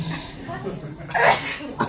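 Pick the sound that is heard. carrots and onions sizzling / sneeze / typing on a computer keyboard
sneeze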